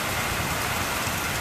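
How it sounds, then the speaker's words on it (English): Rain pours again in Springfield, a loud, even wash of drops hitting surfaces that fills the whole moment with no one speaking. "Oh, it's raining again."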